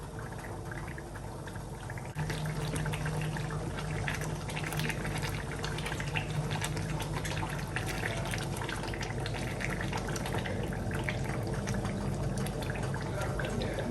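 Chunky Ghanaian black pepper sauce, shito, frying in a pot, a close, steady bubbling sizzle with soft pops and spatters that continues evenly the whole time, jumping slightly louder after the first couple of seconds.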